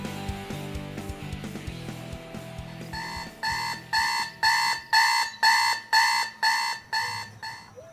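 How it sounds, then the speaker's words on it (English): A faux wooden alarm clock from around 1991 goes off: a brief low tone gives way to a loud, regular electronic beeping, about eight evenly spaced bursts repeating near and clear. "your faux wooden alarm clock has just gone off"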